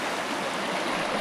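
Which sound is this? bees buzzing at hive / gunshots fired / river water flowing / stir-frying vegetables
river water flowing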